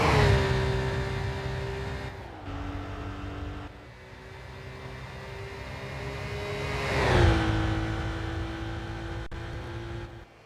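A race car in Gran Turismo PSP sweeps around the banked turn of a high-speed ring, its steady engine drone holding a high pitch, dipping briefly as the revs shift, then swelling again, with no talking.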